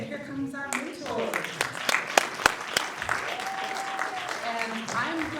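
Audience at a red carpet film premiere claps, scattered sharp claps building into steadier applause over crowd murmur, with voices talking throughout.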